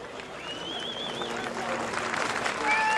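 A huge record crowd at Silverstone cheers and roars after James Hunt's home win at the 1977 British Grand Prix, a sustained wash of crowd noise with whistles, building louder toward the end.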